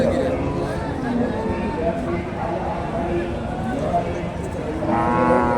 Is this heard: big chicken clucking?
no